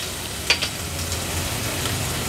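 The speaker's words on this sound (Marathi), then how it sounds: "हे आलं लसूण क्रश आपण ॲड करणार आहोत फोडणीला।" Ginger-garlic paste sizzles in hot oil with bay leaves as a tempering for mutton curry, a steady close hiss with a sharp crackle near the start and no voices.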